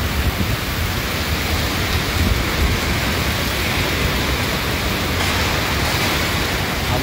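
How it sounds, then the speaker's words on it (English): Torrential typhoon rain pouring over Taiwan, a dense, loud, unbroken hiss of heavy rainfall that roars steadily throughout with no voices. "the approaching typhoon brought torrential rains across the island"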